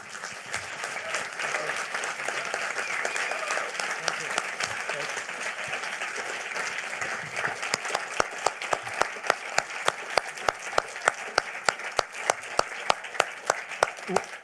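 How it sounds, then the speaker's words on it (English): An audience applauds after an inspiring speech at a panel event: dense, sustained clapping that thins toward the end into scattered, sharper individual claps from nearby hands. "I'm happy for the clapping and stuff like that"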